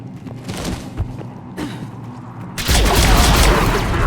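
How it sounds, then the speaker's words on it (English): Heavy cannon fire erupts during a Mass Effect 3 battle, starting as scattered thuds and rumbles and then swelling into a loud, dense, continuous barrage of booms. "The cannon fire is clearing the way."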